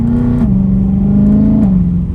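A BMW E92 M3 engine roars under heavy throttle at around 2,500 rpm, its intake giving a loud, close, sustained drone that dips slightly in pitch twice.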